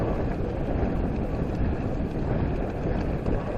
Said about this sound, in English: It's a lot of wind out right now, guys.